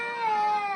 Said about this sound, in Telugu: అదే పిల్లి ఇక్కడ ఉందండి